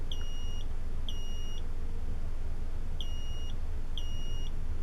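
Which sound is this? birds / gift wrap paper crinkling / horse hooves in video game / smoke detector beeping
smoke detector beeping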